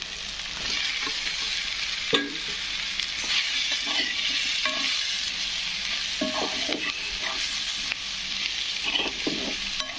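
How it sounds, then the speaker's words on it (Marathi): Capsicum frying in a pan, with a steady bright sizzle broken by scraping stirs and light clinks of a spoon against the pan, close and continuous with no talk. "आपण शिमला मिरची टाकून घेऊ."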